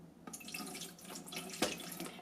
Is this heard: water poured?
yes